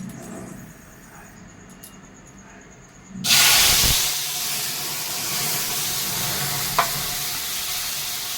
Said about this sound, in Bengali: তেলটা দেখুন আমার গরম হয়ে গেছে। আমি এই চাটনিটা ঢেলে দিচ্ছি।